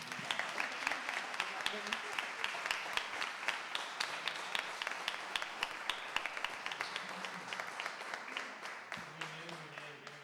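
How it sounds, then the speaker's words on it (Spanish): An audience at a daytime conference session claps in a steady, rhythmic patter of many hands, fairly faint and distant, with a few voices murmuring underneath toward the end. "Un aplauso."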